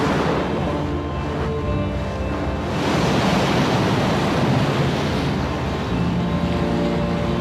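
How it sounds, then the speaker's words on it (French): At the Maelström in Norway, rough sea waves and wind make a loud, continuous roar of churning surf and rushing air that swells stronger partway through, heard close up with no voices. "Alors que la mer était jusque-là très calme, soudainement, elle se met à s'agiter."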